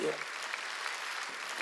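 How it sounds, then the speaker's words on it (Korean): A congregation claps at a Wednesday church worship service, a brief, steady burst of applause under a preacher's voice. "박수야."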